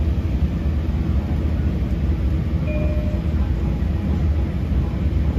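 A Long Island Rail Road train runs on the Montauk-Patchogue line, giving a steady low rumble and rolling rail noise with a faint brief whistle-like tone partway through, heard from inside the moving train.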